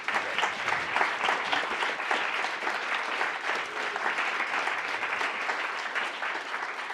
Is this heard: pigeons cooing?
no